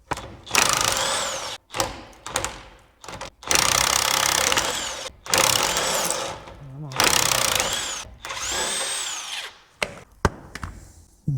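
Power tool working a nut on a truck frame near the axle U-bolts, loud close bursts of whirring and rattling in several runs separated by short pauses.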